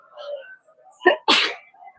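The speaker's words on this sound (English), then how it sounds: "Sneeze, a true word." A single loud sneeze: a short sharp inhale followed by a forceful burst, close up, with no talking.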